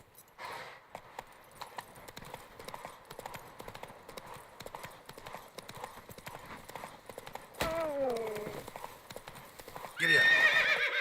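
Roach, the horse in The Witcher 3, gallops with a steady rhythmic clip-clop of hooves. Two whinnies break through, one near the middle and a louder, closer one at the end, with a few words spoken.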